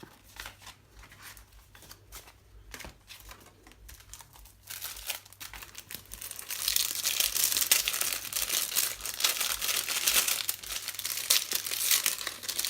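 Plastic packaging crinkles and rustles, sparse handling at first, then loud continuous crinkling as it is unwrapped up close.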